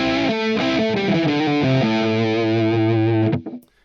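Heavily distorted electric guitar plays a short solo lick phrase with bent and sustained notes, loud and close, ending abruptly with a brief fade.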